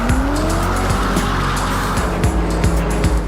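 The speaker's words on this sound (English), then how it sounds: "This is the new Ford GT. It's the first proper supercar ever made in America." A Ford GT supercar howls under hard acceleration, its engine note rising and shifting while the tires squeal and skid through a corner, loud and close without any talk.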